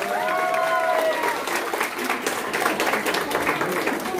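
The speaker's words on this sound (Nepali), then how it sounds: "ताली बजाइदिनु त थर्ड पोजिसन प्लिज" An audience claps for the third-place winners at an Independence Day celebration in a Darjeeling village, dense steady applause throughout, with a voice briefly heard at the start.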